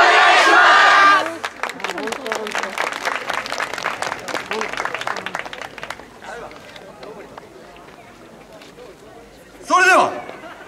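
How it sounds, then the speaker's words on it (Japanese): A crowd at the 2016 Isshinden Tanabata festival dance performance roars and shouts, then claps in a rapid, steady rhythm that gradually fades, ending with a brief loud voice burst. "ご声援手拍子よろしくお願いします"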